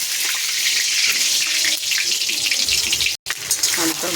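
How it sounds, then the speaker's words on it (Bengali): Potato pieces fry in hot oil in a wok, a steady loud sizzling hiss close up that runs throughout with one brief drop-out near the end. "আলুটা ভাজা হচ্ছে"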